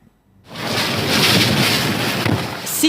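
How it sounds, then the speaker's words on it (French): Hurricane Irma's wind and torrential storm in Florida bending a palm tree, a sudden roaring blast of broadband wind and rain that rises fast and stays loud and steady, close to the microphone, with no voices. "c'est palmier qui plie sous la puissance du vent"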